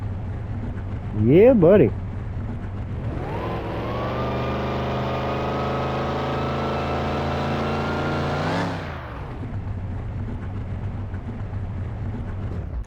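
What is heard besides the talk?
supercharged Camaro engine starting in Car Mechanic Simulator 2021 video game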